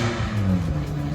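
A loud car engine with a straight-through exhaust, a Toyota Cresta, rumbles steadily up close, deep and throaty, with no talk over it.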